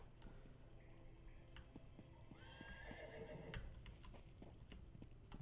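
Horses in the Elder Scrolls Online game give a couple of neighs and whinnies, with clip-clop hooves, amid a soft, steady ambient background in a stable setting.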